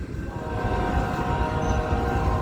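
An eastbound BNSF freight train led by locomotives including an AC44 rumbles past close by, a heavy continuous low roar with a sustained horn chord sounding over it.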